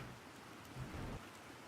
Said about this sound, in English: Oh, we're getting rain. Hello, rain.